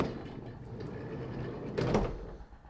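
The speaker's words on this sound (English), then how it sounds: "Side loading door." A 2016 Vauxhall Vivaro 1.6 CDTi BiTurbo Sportive van's side loading door slides along its runner, a rolling rumble that builds to a firmer clunk near the end, close by and without talk.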